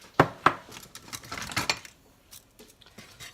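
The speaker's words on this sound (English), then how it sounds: "in this little bowl here I have 3 teaspoons of baking powder, a half a teaspoon of salt, and 2 teaspoons of sugar. We're just going to mix all this together." Small bowl of baking powder, salt and sugar stirred with a utensil: two sharp clinks against the bowl, then a run of scraping, tapping strokes that fade into light rattles, close and alone.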